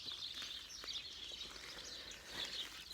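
Songbirds chatter and chirp in the open countryside of the West of Ireland in spring, a faint, busy chorus of overlapping high calls heard from a distance, with no voices.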